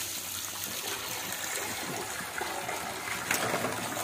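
Water is poured into a piggy bank, running and splashing steadily, a soft gushing pour close by with no talking over it.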